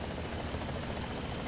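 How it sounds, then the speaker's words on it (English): A helicopter drones steadily in the video game War Thunder, a faint, continuous rotor hum with a thin high whine running through it and no voices. "I can hear a helicopter."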